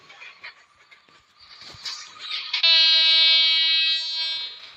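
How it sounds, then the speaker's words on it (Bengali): A train horn in the Train Simulator Bangladesh video game sounds as a loud, steady multi-tone blast that begins abruptly partway through and holds for about two seconds over faint rumbling game noise, with no talking. "একটু হর্ন মেরে দিলাম, কারণ ট্রেন তো হর্ন ছাড়া চলে না।"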